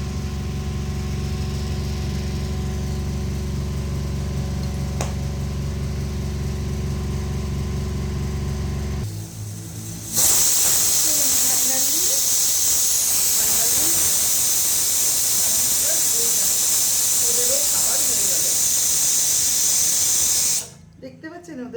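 A pressure cooker lets off steam in a kitchen, a loud sustained hissing blast that starts abruptly after a stretch of low humming and runs about ten seconds before cutting off.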